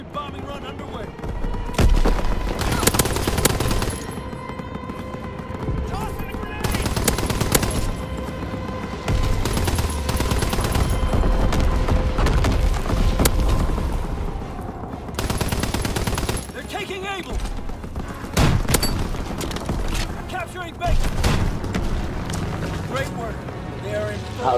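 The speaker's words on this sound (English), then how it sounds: "Low altitude bombing run underway." Bombing-run explosions and gunfire in the Call of Duty WWII video game, with dense, loud bursts of automatic fire and heavy booms rolling on for many seconds while voices talk over the battle.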